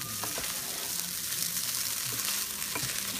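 Fried rice stir-frying in a dry pan with little oil and black pepper, a steady close sizzle with scraping stirs and occasional utensil clicks against the pan.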